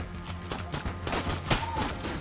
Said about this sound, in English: That was a rifle bullet.